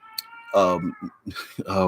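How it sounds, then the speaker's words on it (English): A house cat meows in short harmonic calls, close to the microphone and fairly loud, mixed in with a person talking nearby. "here's my cat, and my cat's deaf."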